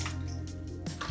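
Warm water drips and splashes softly during makeup removal, with a few brief close wet drops over a low steady background hum.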